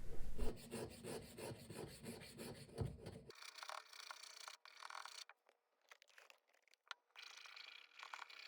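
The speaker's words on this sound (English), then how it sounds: "Using my Carbide Scraper this time worked really well on these legs." A carbide scraper strips old finish from wooden furniture legs in quick, rhythmic rasping strokes for the first few seconds, followed by quieter, scattered scraping and handling noises.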